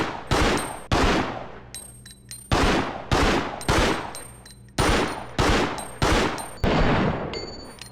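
Pistol shots from a 9mm handgun in Resident Evil Outbreak, about ten sharp, loud reports fired at a steady pace, each with a short decaying tail, with faint clicks between them.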